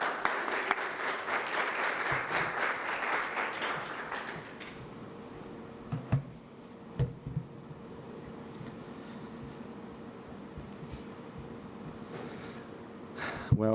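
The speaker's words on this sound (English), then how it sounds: "Let's give a round of applause to Vinicius." An audience claps for a speaker taking the stage at a culture and climate policy event, with full applause for about four seconds, then scattered faint claps and room noise.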